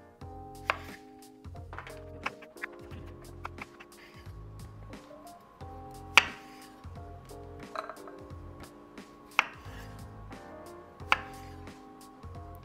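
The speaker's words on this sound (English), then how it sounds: "I'm gonna take these tiny little baby potatoes and I'm actually gonna quarter them" A knife quarters tiny baby potatoes on a cutting board for succotash, giving a regular series of close, crisp chopping knocks with brief pauses between cuts and no voices.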